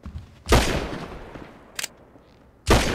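Handgun shots fired in GTA V ring out as two loud, sharp blasts about two seconds apart, with a brief fainter crack between them and low game ambience underneath.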